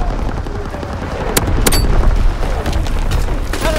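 Artillery and gunfire in Call of Duty: WWII, a steady rumbling barrage with a few sharp shots standing out over a continuous loud low boom, no talking.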